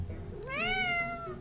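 A kitten gives a single drawn-out meow, close and fairly clear, rising and then falling in pitch over quiet room tone.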